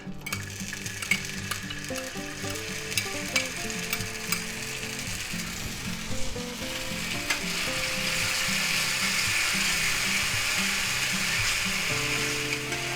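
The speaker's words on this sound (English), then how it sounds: "now we're going to put our garlic in there. 2 tablespoons of garlic, minced garlic." About two tablespoons of minced garlic fry in hot oil in a pan, a continuous close sizzle with stirring scrapes that grows slightly louder, and no one speaks.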